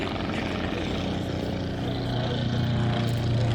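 A Druine D.31 Turbulent, a small single-engine aircraft, flying past low at the East Kirby airshow: a steady, droning propeller engine hum that builds slightly louder toward the end.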